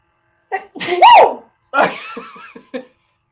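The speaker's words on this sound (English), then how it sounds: "Oh, I'm about to sneeze." A loud, close sneeze bursts out after a quick inhale, followed by a few breathy, giggly exhalations.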